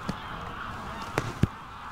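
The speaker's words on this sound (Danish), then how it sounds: "det vi ser her nu, det er lige indflyvning af en 350 grågæs" A flock of about 350 greylag geese flies in from the fields toward a lake bird tower at Stubbe Sø, giving distant, scattered honking with a few sharper, closer calls.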